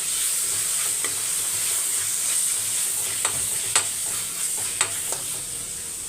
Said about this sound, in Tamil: ரெண்டே ரெண்டு மீடியம் சைஸ் தக்காளி சேர்த்துக்கோங்க தக்காளி வந்து நல்லா வதங்கட்டும்